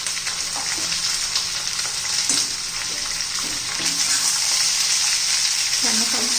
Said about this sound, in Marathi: आता उभा चिरून घेतलेला कांदा घालून घेऊ आपण.